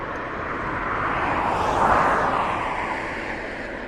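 A TUI Boeing Dreamliner at East Midlands Airport, a broad jet roar that swells to a peak and then fades, heard alone in the open air.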